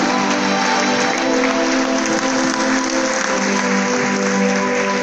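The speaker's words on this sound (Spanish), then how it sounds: "Dale fuerte aplauso a los siervos" Steady, dense applause from a church congregation during a revival service fills the whole stretch at an even, loud level, with no clear speech over it.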